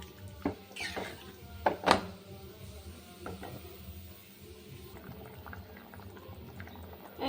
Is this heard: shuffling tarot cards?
no